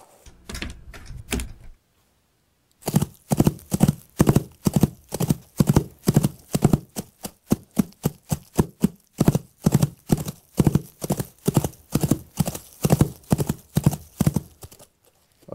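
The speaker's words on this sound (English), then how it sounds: "so I just laid down the horse footsteps" Foley horse hoofbeats made by striking hoof props on a surface. A short burst of clatter comes first, then a pause, then a steady clip-clop rhythm of hard, close knocks that continues to the end.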